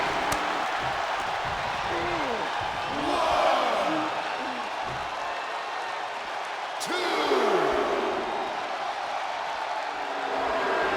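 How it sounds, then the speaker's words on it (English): A wrestling arena crowd cheers and roars behind a tag-team match, the noise swelling twice with whoops while voices talk over it. "The crowd is fully behind Xavier Woods right now"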